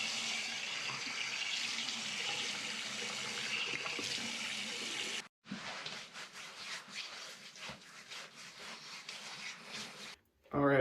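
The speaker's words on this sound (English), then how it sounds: "I'm going to go ahead and wet my face and then we'll get started shaving here" Tap water runs steadily from a bathroom faucet as a face is wetted before a wet shave, a continuous close hiss with splashing, briefly cut off near the middle and again just before the end.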